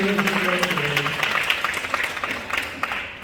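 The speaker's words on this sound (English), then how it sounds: "Now, see, all this applause is for you." Audience applause in a lecture hall during a talk on lifelong learning, a steady wash of clapping that fades slightly toward the end, with some low tonal sounds beneath.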